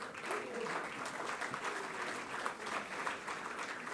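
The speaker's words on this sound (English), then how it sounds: "Yes, you can applaud that" Distant, soft applause from an awards-ceremony audience honouring a Comrades marathon runner, a continuous even patter of many hands kept at a low level throughout.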